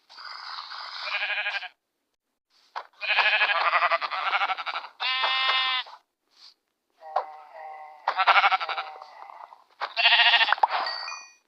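Sheep in the Minecraft video game bleat repeatedly in short, clear bursts, several close bleats separated by brief pauses.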